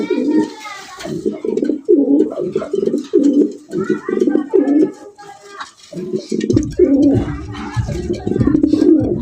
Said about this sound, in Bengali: ডাকের কি এক একটা নরের এক এক রকমের ডাকের সাইজ স্টাইল